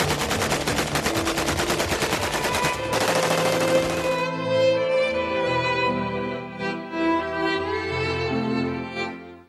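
Guns are fired into the air in a rapid automatic burst, a dense rattle of shots lasting a few seconds before fading into ringing echoes and distant tones.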